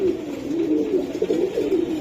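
Pakistani Teddy and high-flying Giribaz pigeons coo close by, a soft, rolling, wavering low call repeating steadily for a couple of seconds with nothing else heard.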